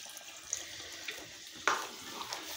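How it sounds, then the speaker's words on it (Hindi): Water poured into a cooking pot while making a vegetable curry, a steady soft splashing stream with a few brief louder splashes, heard alone and fairly quiet. "थोड़ा सा पानी डाल देते हैं"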